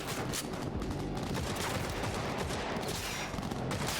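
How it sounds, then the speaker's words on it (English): Sustained gunfire exchange in Cyberpunk 2077, dense overlapping bursts of shots rattling continuously at high loudness with no pauses, no voices. "now they're shooting back and forth"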